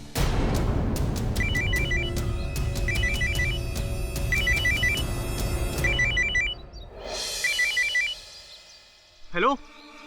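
A mobile phone ringtone trills in repeated bursts of electronic beeps in a forest, ringing several times over background noise before a short rising tone near the end.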